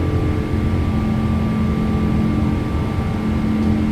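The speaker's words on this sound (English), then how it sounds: "Listen to those Rolls-Royce work" Rolls-Royce jet engines of a PMDG 777-200 in a flight simulator game give a loud, steady droning roar with a constant low tonal hum, unbroken and with no talk.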